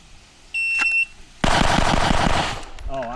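Pistol shots from a stock handgun at a shooting range: a loud burst of rapid, closely spaced reports, preceded by a brief electronic beep and followed by a short voice.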